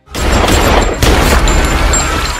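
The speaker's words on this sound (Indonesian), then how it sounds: "Vincent berhasil menghabisi Peter Lin dengan tembakan profesionalnya, yaitu 2 peluru mengarah ke dada dan satunya lagi ke arah kepala." Gunshots in a scene from the action film Collateral, where a hitman fires two rounds to the chest and one to the head. Two sharp, booming blasts about a second apart, loud and reverberant, each trailing into dense noise.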